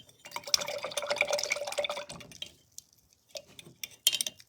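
Paintbrush swished and tapped in a water cup while painting a craft project, a burst of close, busy sloshing followed by a pause and a few brief clinks.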